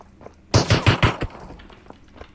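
Short burst of automatic gunfire in a multiplayer shooter game, four or five quick loud shots in rapid succession, followed by a low, faint background din.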